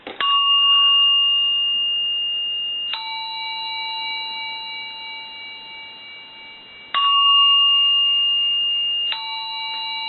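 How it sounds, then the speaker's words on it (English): A repaired Western Electric bell chime ringer in chime mode sounds clear two-tone ding-dong strikes: a pair, then another pair about six seconds later. Each tone is loud and bright, rings out alone and fades slowly. "I'll ring it one more time in the bell chime mode."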